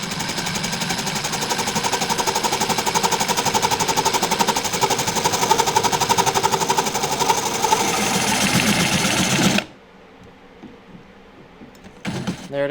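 A Milwaukee saw fitted with a metal blade cuts through a kayak trolling motor mount, a loud continuous buzzing rasp for about ten seconds before stopping abruptly, followed by near silence and a brief final burst.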